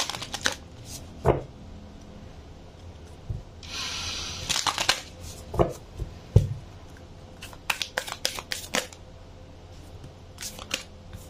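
Tarot cards shuffled and riffled in quick crisp bursts, with scattered taps and flicks of cards laid down; close and fairly quiet, no talking.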